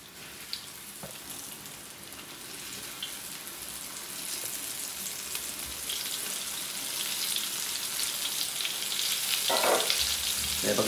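Cream dory fish frying in a pan, a steady crackling sizzle with spattering pops that grows louder over about eleven seconds, close up with no talking.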